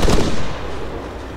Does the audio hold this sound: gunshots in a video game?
yes